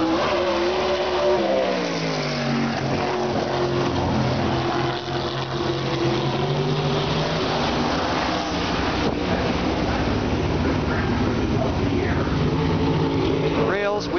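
A USAC Silver Crown race car runs a qualifying lap at Winchester Speedway, its engine note loud and sustained throughout, pitch rising and falling through the turns, with people talking over it.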